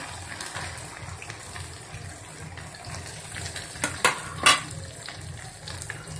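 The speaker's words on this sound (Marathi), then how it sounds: "जिरं हे थोडं परतून घ्यायचं चांगलं" Cumin, mustard seeds and spices sautéing in hot oil in a kadhai, a steady close sizzle under stirring, with a couple of sharp spoon clinks against the pan partway through; no voices.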